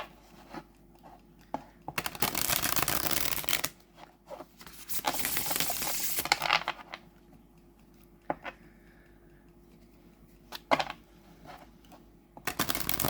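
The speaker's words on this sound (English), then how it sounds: "Such a nice shuffle." A Tarot of Echoes card deck being shuffled and fanned close by, giving dense riffling flutters in several bursts with quieter gaps and light card snaps between.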